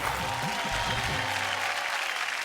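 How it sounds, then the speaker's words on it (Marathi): An audience at a Marathi women's variety show breaks into applause, a dense patter of clapping that holds steady and fairly loud throughout. "जोरदार टाळ्या झाल्या पाहिजेत."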